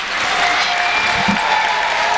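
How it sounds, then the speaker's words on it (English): A college basketball crowd at a semifinal game applauds a player: brief, dense clapping with a few crowd voices underneath. "we give a round of applause for Shia Weiss again"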